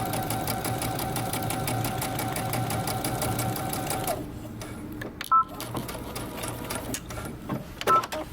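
A sewing machine runs steadily for about four seconds, top stitching close to the edge of a jeans waistband to close off the seam allowance, then stops, leaving only faint handling clicks and taps.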